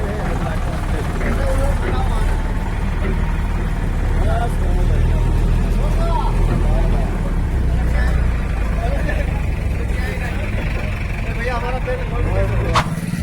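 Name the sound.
tractor driving near farm field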